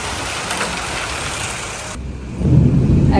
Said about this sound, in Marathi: पाऊस पडतोय ना त्यामुळे लाईट गेलेली आहे